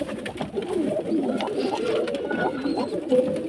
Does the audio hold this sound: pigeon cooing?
yes